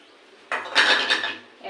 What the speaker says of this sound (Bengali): পেঁয়াজ কুচিগুলো সব দিয়ে দেবো